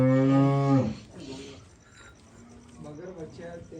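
A Sahiwal Cholistani Friesian cow lets out one loud, close, drawn-out moo lasting almost a second, followed by quieter farmyard background and people talking.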